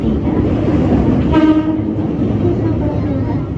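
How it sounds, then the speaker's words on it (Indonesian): A JR 205 series commuter train on an Indonesian KRL line near Yogyakarta and Solo rumbles loudly and continuously near a station, with a brief tonal horn-like sound midway over the steady rail noise. "Kereta akan dipersiapkan masuk di jalur 3."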